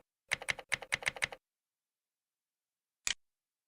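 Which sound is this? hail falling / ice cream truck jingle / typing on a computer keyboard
typing on a computer keyboard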